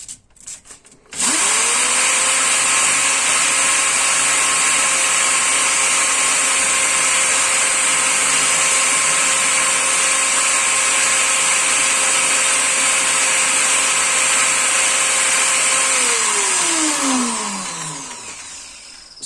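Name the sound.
power tool sanding valve with sandpaper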